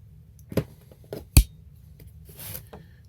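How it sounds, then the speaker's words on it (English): Blade cutting into a cardboard mystery box on a desk, a few quiet scraping and slicing strokes with one sharper crunch, sparse and close against a silent background. "We're going to cut into this box."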